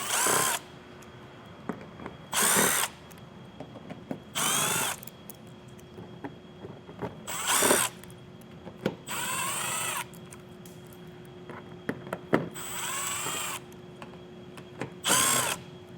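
A power drill removing T30 bolts from a 2024 Ford Maverick: repeated short whirring bursts of a few seconds each, separated by pauses, with a faint steady tone underneath.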